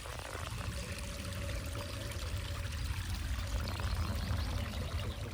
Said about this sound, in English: Bits of land drains flowing here, like dripping out.